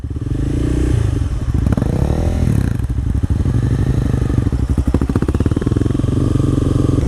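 A motorcycle engine runs loud and close as a new rider gives it gas, with throaty revving that rises and falls in a continuous rumble, plus some clattering mechanical noise.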